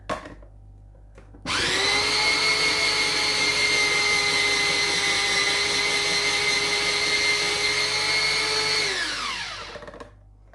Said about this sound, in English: how you can grate these carrots just the way that I'm doing with the machine